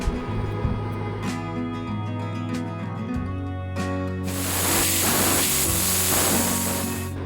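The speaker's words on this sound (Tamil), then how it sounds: "இப்போ இதை குக்கர் மூடி போட்டு ஒரு 2 விசிலுக்கு நம்ம குக் பண்ணி எடுத்துக்கலாம்" A pressure cooker cooking peas pulao on the stove, with a steady tonal hum followed by a loud, sustained hiss of escaping steam in the second half.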